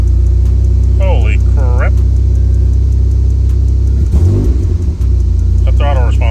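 A Mazda Miata engine, newly fitted with a Link ECU, idles with a steady low rumble and then revs sharply once around the midpoint, loud and close. Excited voices talk over it.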